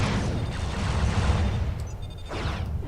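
Phaser fire in the space combat game Starfleet Command: Orion Pirates, a dense, booming rumble of energy weapons with faint high electronic tones near the end, loud and steady with no voices.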